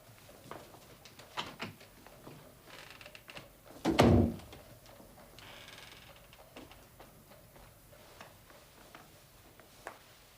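A door closes with a single solid thud midway through, in a quiet room of a Sherlock Holmes radio drama, surrounded by faint clicks and light rustling.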